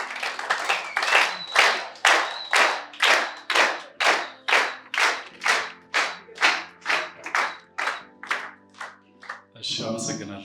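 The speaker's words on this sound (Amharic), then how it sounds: "ሞቅ ባለ ጭብጨባ።" An audience at an office coffee ceremony in Addis Ababa gives a steady round of hand clapping, about twenty evenly spaced loud claps in a regular rhythm, ending as a voice begins to speak.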